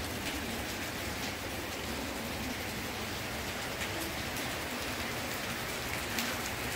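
Heavy rain pouring onto a flooded balcony, a dense continuous hiss of drops striking wet surfaces, loud and unbroken throughout with no voices.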